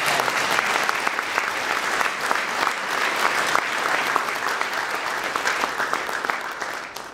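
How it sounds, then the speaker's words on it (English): Audience at a police officer and firefighter of the year awards ceremony applauds the Methuen Fire Department, a dense, steady wash of many hands clapping that holds loud throughout and tapers slightly at the very end. "A big round of applause for the Methuen Fire."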